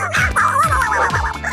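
A dog barks in a quick series of three or four short, close yips, loud and excited.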